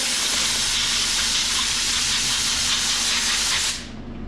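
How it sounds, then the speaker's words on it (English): Compressed air blasts steadily in a loud continuous hiss for nearly four seconds while cleaning parts on a '55 Chevy gas door job, then cuts off abruptly, leaving a low hum. "Take your compressed air"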